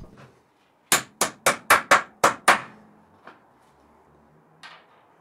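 A hammer drives a spiked, threaded steel insert into a hole in the wood of a workbench kit leg, landing seven sharp, evenly spaced close blows, followed by a couple of faint knocks.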